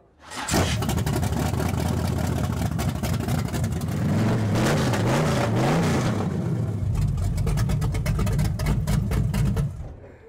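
A 600 hp big block Chevy V8 in a GMC Sprint at a car show, starting with a sudden roar, then loud close revving that rises and falls in repeated blips before settling into a rough, heavy idle.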